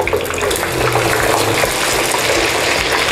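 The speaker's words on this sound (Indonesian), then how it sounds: "Kita mau goreng pempeknya." Pempek fish cakes frying in hot oil give off a steady, dense sizzle that stays loud and even throughout, with no voices.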